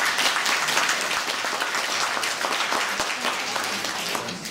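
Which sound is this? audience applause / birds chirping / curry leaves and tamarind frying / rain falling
audience applause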